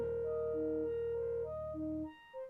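A short synth pattern from the Fugue Machine sequencer app: sustained tonal notes stepping through a simple four-note line, overlapping voices holding steady before cutting off near the end, clear and alone with no talk.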